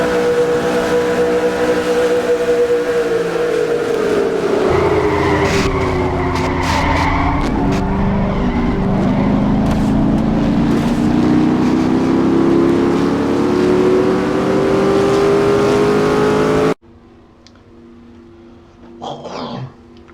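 Onboard view in a NASCAR-style racing video game at the Winston 500: a loud engine drones and rises in pitch through gear changes, with brief tire squeals midway, then cuts abruptly to quieter game sounds near the end.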